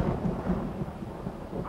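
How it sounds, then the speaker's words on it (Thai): Thunder rumbles low and steady in a storm scene, a continuous deep rolling murmur with a faint rain-like hiss above it, no voices present. "เสียงฟ้าร้อง"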